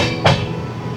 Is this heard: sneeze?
no